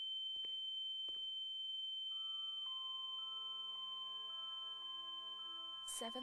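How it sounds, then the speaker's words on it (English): A steady high electronic ringing tone in the psychiatric-hospital video game The Town of Light, sustained throughout alongside softer layered tones and a few faint clicks, with no talking. "Can we stop with that ringing now?"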